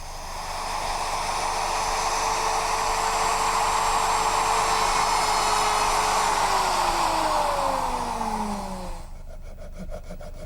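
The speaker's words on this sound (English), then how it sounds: "using a V-groove bit which has a ball bearing which rides along the edge of the template" A router fitted with a ball-bearing V-groove bit cuts along a template in a woodworking shop, a loud steady high whine with a broad roaring cut that holds for about nine seconds, then drops in pitch as the motor winds down.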